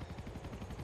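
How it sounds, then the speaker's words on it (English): Rapid rhythmic chopping of helicopter rotors in the video game Grand Theft Auto IV: The Ballad of Gay Tony, a steady thudding pulse heard briefly and at a moderate distance. "I hear helicopter"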